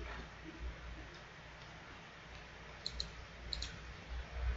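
A computer mouse clicks while someone tries to start a Windows XP installation from CD: two quick double clicks, faint and close, over a steady low hum.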